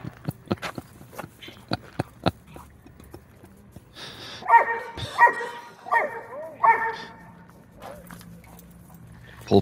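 A dog in a park barks at people playing tennis, four loud close barks in quick succession after a stretch of sharp ball-strike pops and light background noise.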